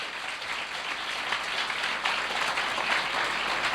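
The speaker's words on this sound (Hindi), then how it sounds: "यीशु के लिए जोरदार तालियां बजाएं।" A church congregation at a Christian worship program applauds loudly and continuously, a dense, steady wash of many hands clapping with no voices over it.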